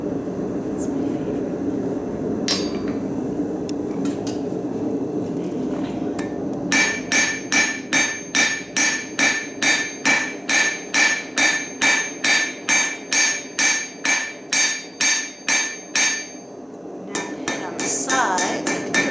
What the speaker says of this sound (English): this is an 800 gram German cross peen hammer